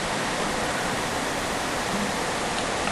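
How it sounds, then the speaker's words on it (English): A video game waterfall rushes in a steady, dense roar of falling water, loud and continuous throughout with no voices over it. "Waterfall!"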